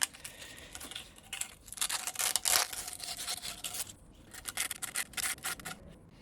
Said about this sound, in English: I use some 80 grit sandpaper just to finish it off